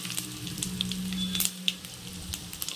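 Mustard seeds, chana dal, urad dal and dried chillies fry in hot oil, a steady close sizzle with scattered sharp pops and crackles throughout, no voices.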